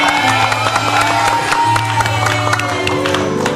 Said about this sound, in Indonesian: Tepuk tangan dong untuk mereka